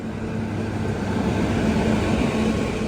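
Maveli Express passes Vivek Express on the rails, a steady close roar with rumbling wheels and a droning hum that holds evenly throughout.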